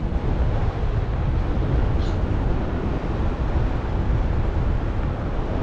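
Strong wind buffets the microphone in a constant low roar during paragliding in Colombia, loud and unbroken throughout.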